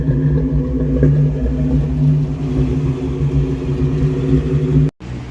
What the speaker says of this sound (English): It is rough, but as you can hear, it is running.